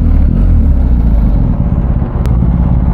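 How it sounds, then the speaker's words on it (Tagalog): A BMW R 1250 GS HP motorcycle engine runs loud and close, a steady rumbling idle with faint clattering ticks and no speech. "Ito pala yung tunog ng GS"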